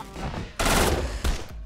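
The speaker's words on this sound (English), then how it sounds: "Two pistol shots and a stick." Gunfire in the video game SOTS: The Pit, with two sharp, loud bursts spaced apart and a quieter lead-in before them. No voices are heard.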